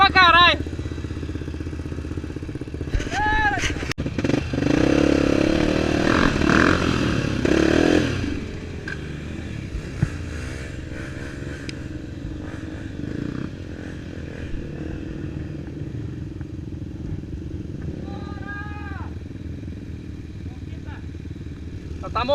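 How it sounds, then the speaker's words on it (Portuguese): A dirt motorcycle engine on a trail ride sputters loudly and unevenly for several seconds, then drops to a weaker, rougher running that fades toward dying, while riders talk and shout nearby. "Já, minha moto tá morrendo pra caralho."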